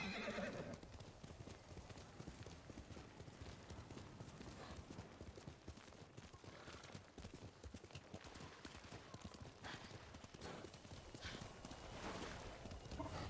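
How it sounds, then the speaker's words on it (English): Rapid, steady hoofbeats of a galloping horse in the video game Ghost of Tsushima pound on continuously, with a horse whinnying at the start and occasional snorts throughout. "You're a good horse, Kage"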